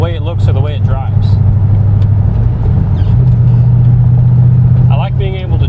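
An LS2-powered Datsun 280Z drones along at a low, steady engine note from inside the cabin, pitch stepping up partway through, while someone talks over it.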